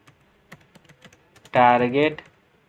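Sparse keystrokes on a computer keyboard while typing in LibreOffice Writer, quiet separate clicks near the microphone, with a voice speaking briefly in the middle.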